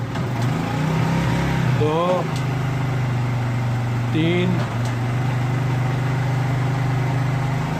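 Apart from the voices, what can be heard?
Honda CD 70 motorcycle engine started and running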